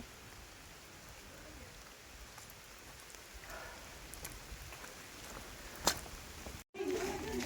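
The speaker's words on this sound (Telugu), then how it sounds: "వర్షం కూడా స్టార్ట్ అయిపోయింది." Rain falls at Devagiri fort, a steady soft patter of drops on stone and surfaces, fairly faint and constant, with a few sharper nearby spatters toward the end.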